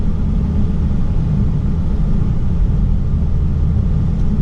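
Low, steady exhaust rumble from a Dodge Challenger R/T 392, a deep continuous drone at a constant level with no voices.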